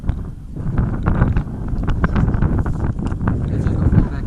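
Wind gusts outdoors during an airsoft game, buffeting and rumbling loudly across the microphone in an uneven roar that swells and dips without a break, with a voice faintly mixed in.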